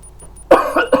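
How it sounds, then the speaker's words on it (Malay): A single close, loud cough followed by a short second hack from a lecturer during a fluid mechanics class, abrupt after a quiet moment with faint electronic tones. "Batuk dah pula."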